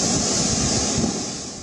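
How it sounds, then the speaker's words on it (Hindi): Strong cyclone winds roar steadily along the south Gujarat coast during Cyclone Biparjoy, a dense, loud broadband rush with surf-like texture filling the short stretch without a break. "तेज हवा फिर से यहाँ पे शुरू हो गई है।"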